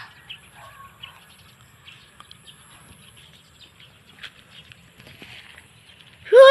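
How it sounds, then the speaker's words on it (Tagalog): Birds chirp and call over a rice field on a warm afternoon after brief rain, scattered faint tweets and short calls spread across the quiet, with a louder burst at the end. "daming ibon"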